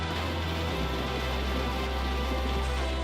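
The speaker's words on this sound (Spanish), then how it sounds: "El granizo destruye coches y tejados, arrasa cultivos y hiere a las personas." Hail comes down in a dense, steady patter that runs continuously without pause, a broad hissing rush of countless small impacts.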